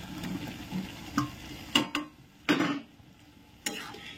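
Boiled jackfruit goes into a pan of frying spice masala, followed by a few sharp clattering scrapes of a utensil against the pan amid a soft, low sizzle, with no talking.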